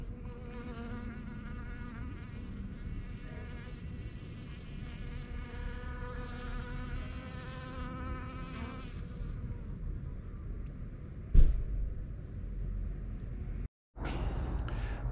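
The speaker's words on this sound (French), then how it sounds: "Première ouverture des ruches" Honey bees buzzing at an opened beehive in spring: a close, dense insect drone with wavering pitches that fades out, then a thump and a brief dropout before the buzzing swells back.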